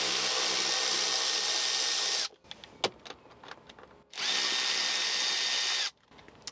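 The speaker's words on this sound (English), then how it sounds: "I've got a ratchet here with the T20. I'm just gonna start removing these screws" Ratchet with a T20 Torx bit removing screws from Tesla Model Y interior trim, two sustained whirring runs with a few sharp clicks and small handling knocks in the gap between, close up.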